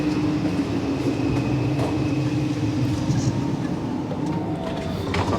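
Inside a moving, air-conditioned second-class passenger train on a route to Malaysia, a steady rumble of wheels and carriage runs continuously with a faint hum, while occasional soft voices sit low in the background.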